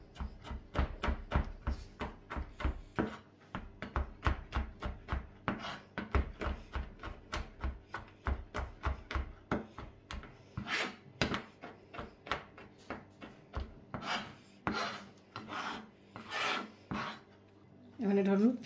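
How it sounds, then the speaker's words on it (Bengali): Soaked, skinned almonds are chopped into small pieces with a knife on a board, a fast run of crisp close taps and rasps that loosens into irregular bursts toward the end, no talking. "কাঠবাদামটা ছোটো ছোটো করে কাটিয়ে আনবো"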